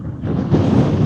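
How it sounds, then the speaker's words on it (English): Steady low rumble of wind buffeting a microphone outdoors while birdwatching, loud and continuous throughout with no voices. "Oh, this is windy."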